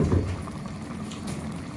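Sauce for fish reducing uncovered in a pot, a close dense bubbling and popping simmer, steady throughout with no talking.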